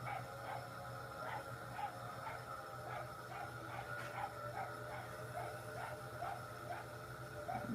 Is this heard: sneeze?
no